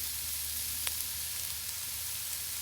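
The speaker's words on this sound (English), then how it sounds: "I want the onions to kind of cook down, caramelize a little bit." Onions cook down and caramelize in a pan over a wood fire, giving a steady, soft sizzle and fry with a faint clink partway through, no talking.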